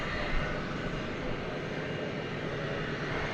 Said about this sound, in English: So there you go, 10-year-old aircraft touching down.